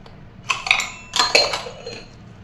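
Garlic cloves dropped into a small glass make a few close, bright clinks and taps in quick bursts, with no one talking.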